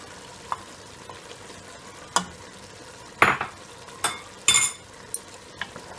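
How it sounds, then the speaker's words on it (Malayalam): Malabar mutton kurma in a pan as thick first coconut milk goes in, heard as a quiet bubbling bed broken by a few sharp spoon clinks and scrapes against the pot, with no voices. "തേങ്ങയുടെ ഒന്നാം പാൽ നമ്മൾ എടുത്തു വെച്ചതിനെ ചേർത്ത് കൊടുക്കാം."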